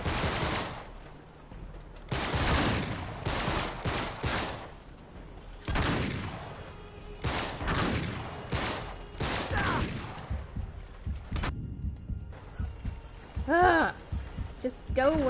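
Rapid bursts of gunfire from the video game Uncharted 3: Drake's Deception, chapter Abducted, crack out in dense loud volleys through the first half, then thin out with scattered shots under talk.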